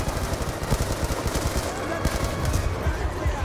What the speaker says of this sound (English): Recoil on the AK is huge.